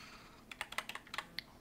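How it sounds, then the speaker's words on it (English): Quick, light clicking of keys on a computer keyboard, a short irregular burst of keystrokes heard close and quiet with no talking. "So I'm typing it right now."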